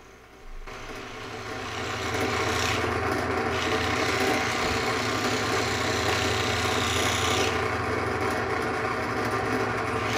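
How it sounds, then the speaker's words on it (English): Drill press squaring the ends of glued scrap-wood cigar pen blanks: the motor spins up and hums steadily, with two raspy cutting passes as the wood meets the cutter, close and alone. "I take the blanks to the drill press to square the ends off"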